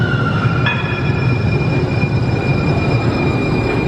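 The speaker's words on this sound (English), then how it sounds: "This is our first two-car train." San Francisco Muni Metro two-car light rail train in a subway, a loud steady rumble of wheels on track with a thin metallic squeal tone riding on top, close and continuous.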